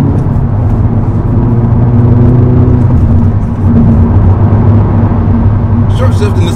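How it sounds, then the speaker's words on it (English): Acura Integra Type S engine and exhaust pulling hard on a highway merge, a loud steady drone rising in pitch, then easing as a short shift comes near the end, with road rumble throughout. "This is a good sounding exhaust."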